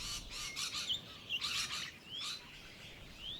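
Several birds chirp and call in riparian woodland, bright tweets and rising whistles coming in short bursts over faint background ambience.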